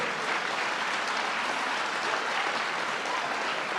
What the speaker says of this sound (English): Let's give one more round of applause for Gillian,